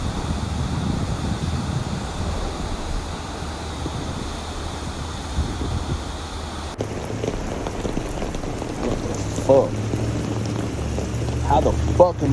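Heavy rain pours steadily during Hurricane Hilary in the Los Angeles area of California, a constant dense hiss of rainfall with gusts of wind; after a sudden shift partway through, faint voices talk under the downpour.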